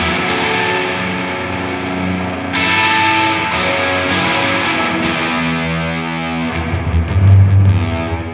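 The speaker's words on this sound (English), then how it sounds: "I think it's a beautiful looking pedal with some beautiful and beautifully nasty sounds in it" Electric guitar played through a Walrus Audio Melee reverb and distortion pedal, thick fuzzy chords washing into long reverb tails, loud and continuous, swelling louder near the end with heavy low-end grit.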